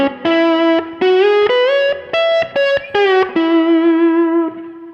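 A distorted electric guitar plays a short lick of sustained, sliding notes with brief gaps, ending on a long held tone that fades.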